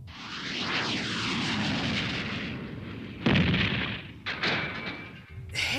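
A Gundam's beam gatling gun fires in an anime battle, a loud roaring, whooshing sustained blast followed by sharp bursts and a rising whine near the end.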